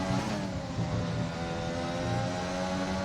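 Ferrari race car engine in a racing video game on the Hungary circuit, a steady loud droning roar with several cars humming together, held continuously with no talking.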